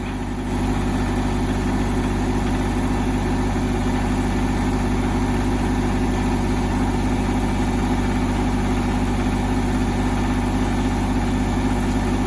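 An old, worn-out Kubota tractor engine idling, a steady low rumbling drone with constant vibration, loud and close throughout with no speech.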